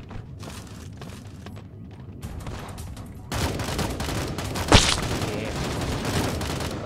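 Laser rifle and sniper fire in the mobile battle royale Sausage Man crackles as a string of rapid shots, quieter at first, then denser and louder, with one sharp high-pitched blast near the end.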